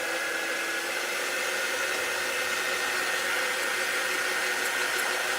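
A heater pumps out warm air with a constant, even whooshing roar that holds steady from start to finish, with no voices.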